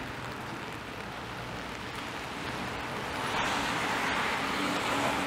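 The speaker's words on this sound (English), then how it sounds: "It's been a while since I've been out recording in the rain." Rain falling on Danforth Avenue in Toronto's Greektown, a soft, steady patter with wet tire hiss from passing cars, the traffic noise swelling slightly louder toward the end, with a few faint clicks.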